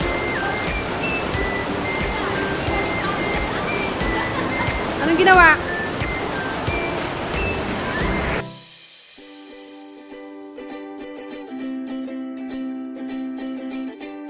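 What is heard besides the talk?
flowing water of a stream in the Pradis caves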